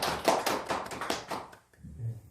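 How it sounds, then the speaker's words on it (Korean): A church congregation claps in quick, rhythmic unison for about a second and a half, then stops, leaving a faint low murmur. "박수로 영광을 올리겠습니다."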